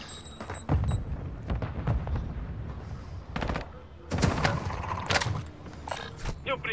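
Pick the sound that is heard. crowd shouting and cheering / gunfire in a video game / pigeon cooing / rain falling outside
gunfire in a video game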